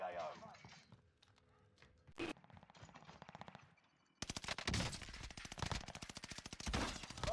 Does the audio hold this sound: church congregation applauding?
no